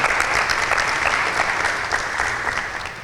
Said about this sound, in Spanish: Podemos dar fuertes aplausos por este joven.